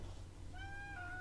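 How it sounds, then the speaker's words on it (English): Joy, a pet cat, gives a single short meow rising and then falling, quiet and close, over a faint low background hum. "She is my cat."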